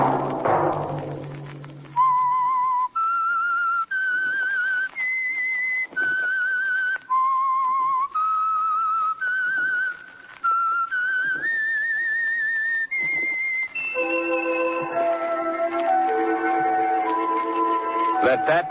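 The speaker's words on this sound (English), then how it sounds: "Let that whistle be your signal for the Signal Oil program, The Whistler" A clear whistled melody rises and falls in sustained tones over about twelve seconds as the theme signal of The Whistler radio mystery program, then gives way to orchestral music.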